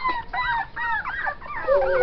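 A litter of ten newborn puppies whimpers and cries in overlapping high, wavering squeals, close and continuous, with no talking.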